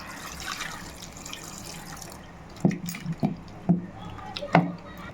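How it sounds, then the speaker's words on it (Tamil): Water splashes and gurgles into a pressure cooker pot of tomato sambar ingredients in several short pours, close by, with faint kitchen background noise. "இதெல்லாம் முழுகிற அளவுக்கு தண்ணி சேர்த்துக்கலாம்"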